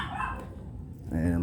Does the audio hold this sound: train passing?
no